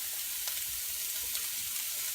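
Bacon grease and lean sausage sizzle in a pan for biscuits and gravy, a soft steady frying hiss with a couple of light crackles, close by and without speech.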